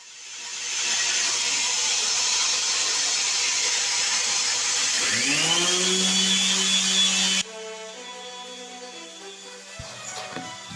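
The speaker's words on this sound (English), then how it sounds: "I'm still giving it a key with my dual action sander with a 60 or 80 grit" A dual action sander with 60 or 80 grit keys the bare metal of a car chassis before epoxy painting: a loud, steady whirring grind that runs for several seconds, its pitch climbing partway through before it drops to a lower, quieter hum.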